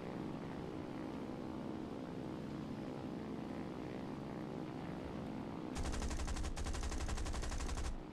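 Biplane propeller engine in a flight simulation video game drones steadily throughout, then rapid machine-gun-like bursts of fire join in over the last couple of seconds.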